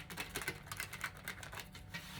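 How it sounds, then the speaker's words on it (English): Tarot cards shuffled by hand in a quick run of soft, crisp flutters and riffles, close and fairly quiet with no talking. "One last shuffle."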